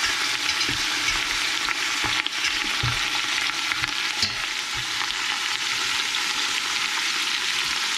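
Oxtails searing in a hot pan give off a steady, crackling sizzle throughout, with a few sharper pops and stirring knocks standing out, and no voices.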